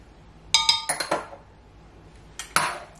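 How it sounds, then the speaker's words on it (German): A spoon clinks against a bowl while stirring a yeast bread mixture, several bright metallic taps in a quick cluster, a pause, then two more clinks, close and alone. "Gut umrühren, dass sich alles zu einer Mischung hier vereint."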